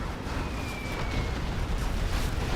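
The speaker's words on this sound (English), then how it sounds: "some serious general's explosions going off there" Explosions in a strategy video game battle during a free-for-all match, heard as a continuous, heavy, rumbling roar of blasts that holds steady at high level for the whole stretch.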